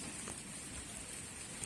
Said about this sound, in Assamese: ইয়াৰ বতৰ ঠিক ধৰিব নোৱাৰি এই বৰষুণ আহে এই ৰদ ওলায়